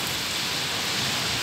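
Steady rainfall in Chennai, Tamil Nadu, a dense, even hiss of drops on surfaces heard alone with no voices, constant and fairly loud throughout the short stretch.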